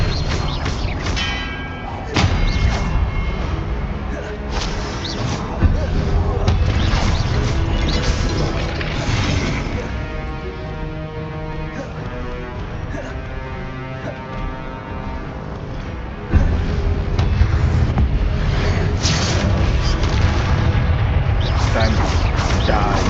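Confringo and Incendio spells burst in Hogwarts Legacy, loud crashing explosions and thuds layered over dense game music and effects, with a voice speaking at times.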